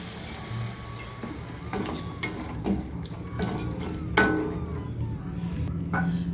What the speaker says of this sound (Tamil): இப்போ காய் வேகிற அளவுக்கு கொஞ்சமாக தண்ணி ஊற்றுப்போம்.